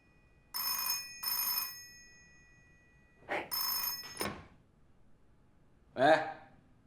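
An old-style telephone bell rings in an office, two long trills followed by two more after a pause, loud and close, with a short voice sound near the end.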